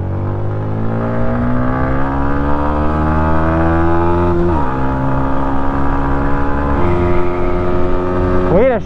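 A 2020 Yamaha MT-125 motorcycle engine held at high revs, a steady loud buzzing drone that shifts pitch twice and then climbs sharply at the end, running continuously without pause.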